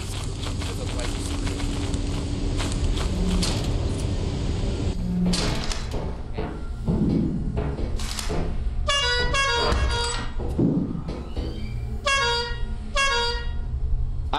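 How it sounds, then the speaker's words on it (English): Car horn honks in a horror-style video game, several short bursts between about 9 and 13 seconds, loud over a busy game soundscape with people talking throughout. "Stop honking, it attracts monsters."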